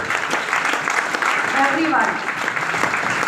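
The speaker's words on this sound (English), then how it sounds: "once again, a round of applause for the participants" Audience applause at a school youth-parliament prize distribution, a steady wash of clapping running under someone speaking into a microphone throughout.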